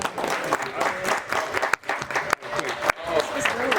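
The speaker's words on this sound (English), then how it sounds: "Can we get an extra applause to all the amazing panelists up there?" Applause for panelists at a Blerd-owned business panel event, a crowd clapping and cheering in a hall with voices over it, a few sharp pauses breaking the steady noise.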